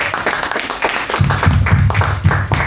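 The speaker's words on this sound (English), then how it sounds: "give a big round of applause" A seminar audience in a public speaking class applauds, the clapping irregular at first and then growing fuller and steadier, close by and moderately loud.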